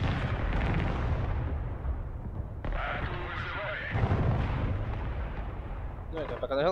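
Rockets and artillery fire in the Broken Arrow strategy game as a dense, continuous barrage of heavy booms and blasts, close and loud, with faint voices mixed underneath.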